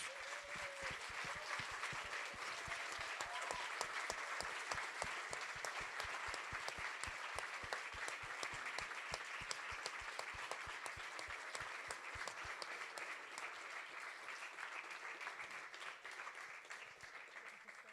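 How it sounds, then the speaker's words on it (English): An audience gives a long, steady round of applause for young students at a live event, many hands clapping evenly throughout, fairly quiet and distant. "One more round of applause."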